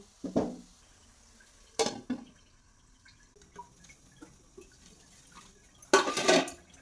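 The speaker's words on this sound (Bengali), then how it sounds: "আমি একটু ধুয়ে পরিষ্কার করে নিছি" Dry pasta being rinsed in water in a home kitchen: a few short splashing, sloshing bursts with clinks against the pot, separated by quiet pauses, and a longer, louder rush of water near the end.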